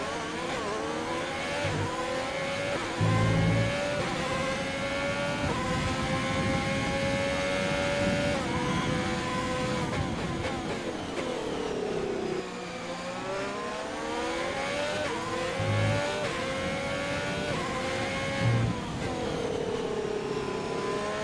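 F1 race car engines in the video game F1 2020 scream through gear changes and revs, with several cars' tones overlapping loudly and continuously at the Bahrain track.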